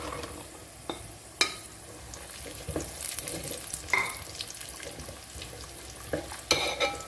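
Raisins fry in hot oil in a pan while chicken dum biryani is being made, giving a steady close sizzle broken by sharp spatula scrapes and clinks.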